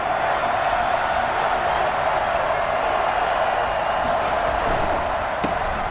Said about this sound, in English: this is where the Arrowhead crowd can make it very tough.